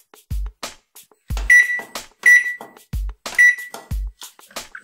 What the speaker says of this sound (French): Tu peux me régler l'heure du micro-ondes